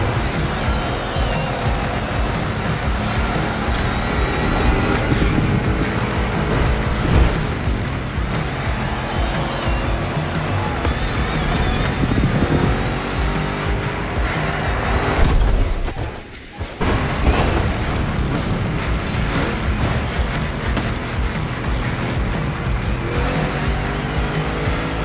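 Race car engine from a Mustang GT-based machine in The Crew Motor Fest, roaring loud and steady through a two-lap race, with a brief dip and thump partway through before the revs return.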